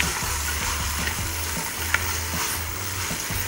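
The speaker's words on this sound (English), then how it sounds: "Stir it around." Pasta tossed with garlic breadcrumbs in a hot pan, a continuous close sizzle with repeated low scraping strokes of the stir at an uneven rhythm, no voices.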